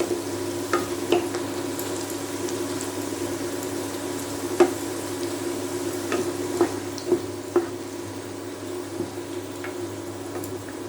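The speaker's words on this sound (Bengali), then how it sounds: "এই পেঁয়াজটা আমি ভেজে তুলে রাখবো।" Onions fry in a pan with a steady, moderate sizzle, broken by occasional small pops and stirring taps, and no voices.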